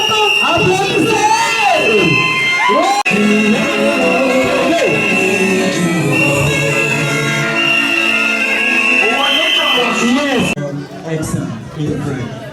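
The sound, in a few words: school crowd applauding and cheering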